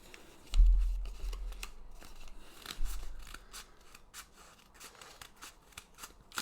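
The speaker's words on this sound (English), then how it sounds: "I'm just going to cut it off." Scissors snip through card or paper for a homemade 3D Christmas tree. The quiet, crisp cuts come in an irregular series, with a louder bump near the start.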